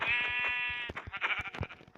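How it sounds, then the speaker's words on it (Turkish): A sheep bleats in the video game Minecraft, one long wavering bleat up close and loud, followed by a quieter burst of shorter broken bleats and clicks. "Aha da koyun."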